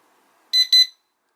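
Two short electronic beeps in quick succession from a JJRC Q36 RC car transmitter, sharp and high-pitched, against silence.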